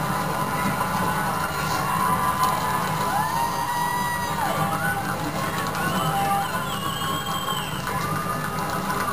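A huge crowd in Washington, D.C. at Barack Obama's presidential inauguration, a steady distant roar of cheering, whooping and scattered yells, with brief shouts and rising whistles rising above the wash of voices.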